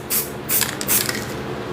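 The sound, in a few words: spray paint sprayed onto a sponge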